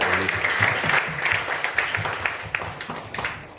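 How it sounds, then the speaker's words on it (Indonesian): Congregation applause at the close of a church service, a dense wash of clapping that starts strong over a lingering voice, then thins into scattered, uneven claps. "Tepuk tangan buat Tuhan Yesus kita"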